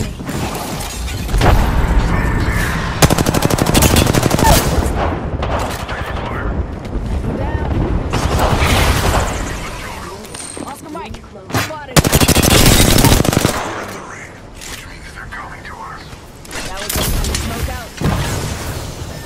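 Automatic weapon fire in the battle royale shooter Apex Legends comes in loud sustained bursts with shorter gaps between them, mixed with game sounds and voices talking over the action.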